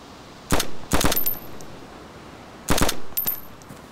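Automatic gunfire in the video game DayZ Standalone, heard as two pairs of short, loud, close bursts separated by a brief quiet pause.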